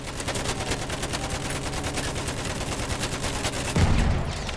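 Enemy machine gun fire in the Battlefield video game rattles in a dense, continuous burst of rapid shots, loud and sustained throughout with a heavier thump near the end.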